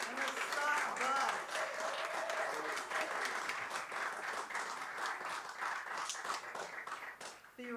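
A benefit-concert crowd gives a band a dense, sustained round of clapping, lively and continuous throughout, with faint voices and a few brief tonal sounds mixed in near the start.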